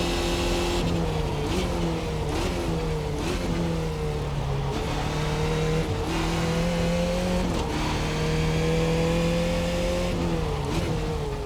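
F2000 race car engine simulated in iRacing at Pocono South, a loud continuous drone whose pitch climbs and drops sharply at several gear changes, with brief dips between shifts and no voices over it.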